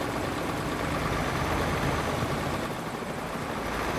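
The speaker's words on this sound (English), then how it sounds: "I can hear a chopper." A helicopter passes overhead out of sight, a steady broad rotor and engine roar heard from inside a truck cab at night, continuous and moderately loud throughout with no talking.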